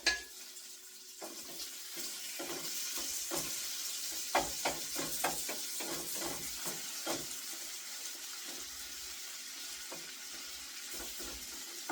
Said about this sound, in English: we're going to give this bacon a stir